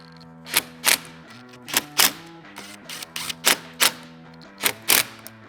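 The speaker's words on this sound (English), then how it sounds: "Now you can go ahead and tighten down all of your screws." Sharp clicking clatters in pairs and small bursts from tightening screws on a plastic steering wheel plate of a 4th gen Toyota 4Runner, close and crisp with short pauses between.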